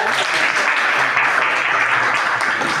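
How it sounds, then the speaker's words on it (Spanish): Classroom applause for a student volunteer after an eye physiology demonstration, a steady dense patter of many hands clapping at once, fairly loud and sustained throughout with a faint murmur of voices underneath. "Aplausos para el modelo."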